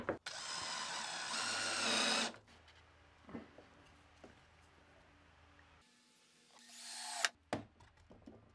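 A power drill drives screws into a wooden nest box for pet rats, giving two loud whirring bursts separated by quieter handling knocks and clatter, close by with no talking.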